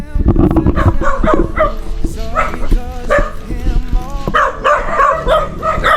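A crowd of dogs barks, yips and whimpers at close range in overlapping, unbroken bursts, a loud chaotic chorus that fills the whole stretch with some voices mixed in.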